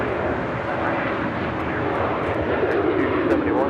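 A jet airliner's engines roar steadily as it takes off from a runway at Los Angeles International, a loud, even rush of noise that swells slightly toward the end.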